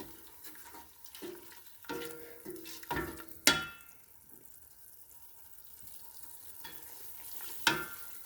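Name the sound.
onions frying in masala with a little water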